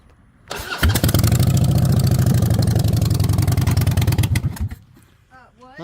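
A custom Harley motorcycle built about twenty years earlier fires up and runs with a loud, lumpy, rhythmic idle and throttle blips at close range before dying out abruptly, after which a brief voice is heard.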